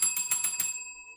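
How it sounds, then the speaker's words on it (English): A small bell dings rapidly five times, bright and ringing, then its tone hangs and fades alone. "ding the fucking bell again."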